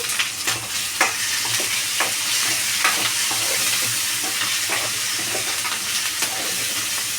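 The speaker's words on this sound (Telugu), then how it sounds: "నేను కొద్దిగా కరివేపాకు యాడ్ చేసుకుంటున్నానండి" Curry leaves sizzle and crackle in hot oil with cooked rice and tomatoes, a steady frying hiss punctuated by sharp pops and the scrape of stirring.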